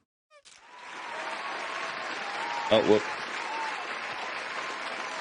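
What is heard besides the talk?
applause sound effect added to a scene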